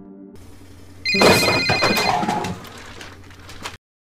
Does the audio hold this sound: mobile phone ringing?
yes